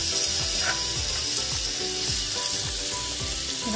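Onion sizzling in a pan for ginisang monggo, a steady close hiss with faint, regular clicking scrapes running through it, no talking.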